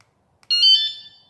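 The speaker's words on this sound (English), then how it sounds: "And that's to arm it." Arming tone from an Onvian smart bike tail light alarm: a short, bright electronic chirp sequence of a few quick beeps, clear and close with no talk.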